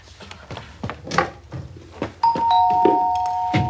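A doorbell in a children's television show rings with a clear two-note ding-dong chime that sustains to the end, following a stretch of knocks, thuds and clattering movement.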